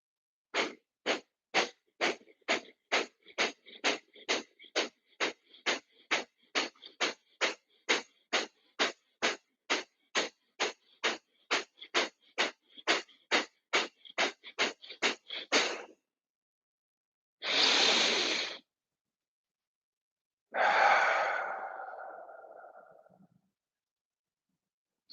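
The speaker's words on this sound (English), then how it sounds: "as we're exhaling through the nose, and we're just using the belly just to create that basketball effect" Pranayama breathing during a yoga class: a rapid, even train of about thirty sharp nasal exhales, each pumped from the belly, followed by two long, drawn-out breaths after short pauses, close and clear with no talk.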